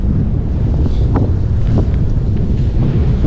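Strong wind buffeting the microphone during a bicycle ride in a loud, continuous low roar, with no voices.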